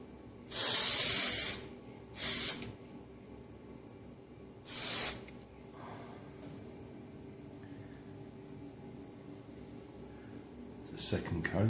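SprayDip rubber spray coating hisses from an aerosol can in three close bursts, a long one followed by two shorter ones, then quiet, with a faint brief noise at the end.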